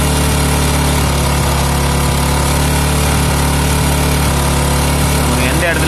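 Bajaj Discover 150 motorcycle engine running loud and close, a steady high-pitched drone held throughout with no clear pauses.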